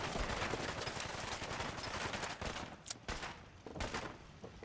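Modded pistols fire in Fallout 4 combat, a busy stretch of overlapping gunshots and sharp reports with a few louder cracks standing out, fairly dense and continuous with no voices.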